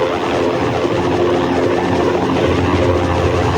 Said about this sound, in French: Un hélico se pointe.